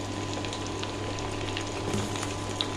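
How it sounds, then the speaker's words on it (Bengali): Chopped capsicum and onion frying in a pan, a steady close sizzle with fine crackling spatters and a light steady hiss throughout, no talking. "এবার দিয়ে দেবো কেটে রাখা সবজিগুলো, তার মধ্যে আছে ক্যাপসিকাম"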